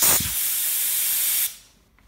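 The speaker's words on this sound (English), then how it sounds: "If we turn on our main air, you'll see it coming out of the main pressure port there." Compressed air blasting from a port on a MAC pneumatic valve bank, a loud close steady hiss lasting about a second and a half before cutting off abruptly.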